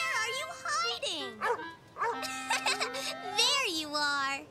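In a children's cartoon a puppy yips and barks in short, high, bouncy bursts, mixed with whimpering sounds and a voice talking between them.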